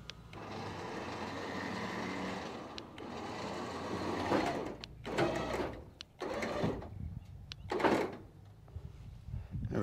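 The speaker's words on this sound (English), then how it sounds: "Gonna winch it down." A winch strains to pull a load of scrap tight on a farm trailer, giving a steady mechanical grinding drone with a few louder ratcheting surges near the end, heard fairly close with no talk.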